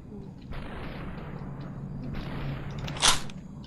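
Gunfire in the video game SUPERHOT comes as a couple of sustained noisy bursts with a sharp, brighter shot near the end, fairly quiet overall.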